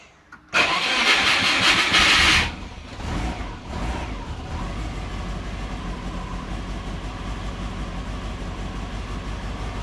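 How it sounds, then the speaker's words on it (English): A Subaru engine cranks and fires with the throttle held open: a loud harsh burst lasting about two seconds, then a steady rough idle that settles in close up, with no talk. "Alright, let's see how she goes starting. I've got to give it throttle."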